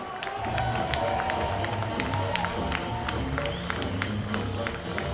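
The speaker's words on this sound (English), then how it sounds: "please give a huge Long Island Ducks round of applause" A ballpark crowd applauds a first pitch thrown by Long Island Ducks legend Ray Navarrete at a Ducks vs. Patriots Liberty Division Championship Series game: sustained, dense clapping with crowd noise underneath, even and continuous, with sharp individual claps standing out near the mic.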